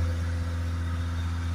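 A Peugeot Boxer 2.0 diesel van engine running at a steady, even idle, a low continuous drone with no clear rev rise, heard up close with no talk.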